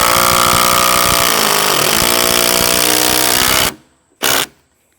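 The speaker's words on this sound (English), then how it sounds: "let me just screw them in" Power driver screwing 4.5-inch Timberlock lag screws into a deck post, a loud continuous motor whine for almost four seconds, then a stop and one short final burst.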